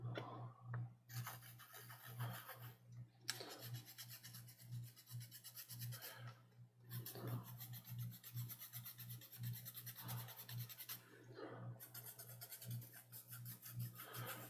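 Solder stencil for a Nintendo Switch CPU reball being scrubbed clean, quiet rhythmic back-and-forth rasping strokes in bursts separated by short pauses, close and soft, with no talking.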